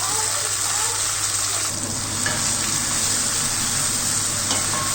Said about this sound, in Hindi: ऑयल, 2 रेड चिली, क्रैकल होने देंगे इसे थोड़ा